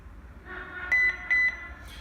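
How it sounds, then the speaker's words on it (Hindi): A smart wireless IP camera beeps twice after scanning a setup code, two short, clear electronic tones in quick succession over a low hum. "आप देख सकते हैं कैमरे के अंदर से बीप हुई है 2 बार"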